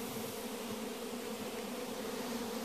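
Bees hum in a steady, dense drone around a natural hive being harvested, a constant close buzz with no voices.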